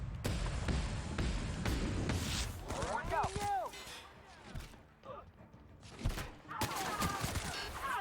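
Bursts of sci-fi gunfire in The Outer Worlds, a rapid fusillade of shots up front followed by scattered blasts and thuds, with intermittent talk over the game action.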